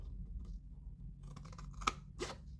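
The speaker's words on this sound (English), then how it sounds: "we're going to cut up this score line" Scissors cut along a score line on a paper gift box, giving a quiet run of close crisp snips and paper crunches that end in a sharper snip, with no talk.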